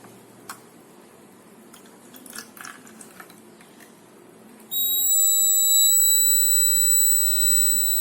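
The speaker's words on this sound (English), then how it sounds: "This is water level alarm." Water level alarm on a homemade salt water battery project beeps suddenly after quiet handling noises, a loud, steady high-pitched electronic tone that continues to the end.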